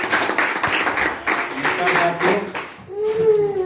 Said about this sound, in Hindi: प्लीज जोरदार तालियों के बीच में माइक हैंड ओवर करता हूं